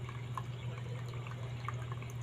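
Dirty tap water runs in a steady flow into a bucket, with a constant low rush and faint splashes and drips on top, heard quietly with no voices.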